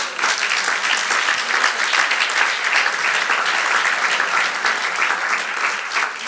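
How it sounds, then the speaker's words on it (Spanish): A church congregation applauds together during a sermon, a dense, steady wash of clapping that holds at an even, loud level from start to finish. "Dale otro aplauso al Señor."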